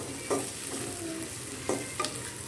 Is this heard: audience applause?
no